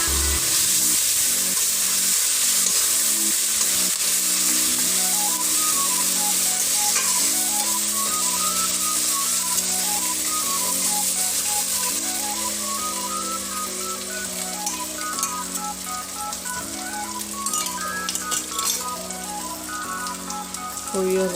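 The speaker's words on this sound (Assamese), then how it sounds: "মাছখিনি অকণমান ভাজা হ'ল, এতিয়া ইয়াতে আদা নহৰু বটাখিনি" Fish frying in a pan with ginger-garlic paste, giving a steady, loud sizzle throughout with some stirring, and music playing underneath.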